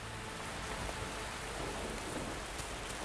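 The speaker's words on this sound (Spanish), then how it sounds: "La lluvia cesará dentro de unos minutos" Heavy, steady rain pours across the Masai Mara reserve in Kenya, a dense unbroken hiss that stays constant throughout with no voices.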